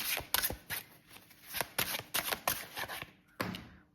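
Oracle cards shuffled by hand for a card reading, a quick series of soft riffling slaps and flutters, close and fairly quiet, with brief pauses between bursts and no voices.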